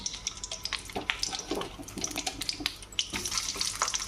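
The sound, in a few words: bitter gourd pieces frying in a pan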